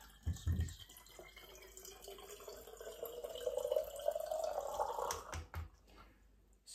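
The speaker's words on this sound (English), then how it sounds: "So the water goes in." Water pours steadily into a glass at home, a faint splash at first, then a rising gurgling fill that climbs in pitch as the glass fills, ending with a few drips.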